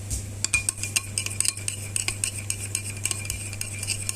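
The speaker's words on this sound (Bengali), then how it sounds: "দইটাকে ভালো করে ফেটিয়ে নেব।" Yogurt is whisked in a bowl with a utensil, giving quick, irregular clinks and scrapes against the sides, close and clear with a low steady hum beneath.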